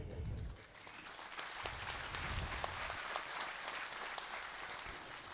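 An audience at a gathering on yoga and the teachings of Lord Ram gives sustained applause, a steady crowd of many hands clapping for five seconds, with low rumbling thumps near the start and no speech.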